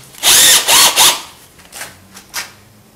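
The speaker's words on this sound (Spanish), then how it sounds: "Y vamos a usar el mismo taladro." A power drill fitted with a soft steel wire cup brush whirs in three short bursts, loud and close, followed by quieter brushing and scraping sounds while cleaning carbon from an engine cylinder head.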